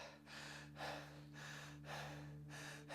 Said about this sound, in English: If you observe people breathing, they'll be mostly like this.